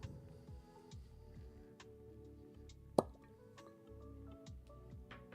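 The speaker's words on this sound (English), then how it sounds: "That was an odd cork pop." A single sharp cork pop as a bourbon bottle is opened, one brief loud snap standing out above quiet, steady background sound.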